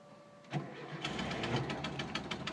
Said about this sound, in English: Now we'll give her a crank.